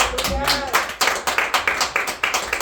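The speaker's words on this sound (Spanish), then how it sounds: "Denle palmas al Rey" Church congregation clapping for the King during a sermon, a run of rhythmic, fairly quick hand claps in a steady beat, with voices mixed in among them.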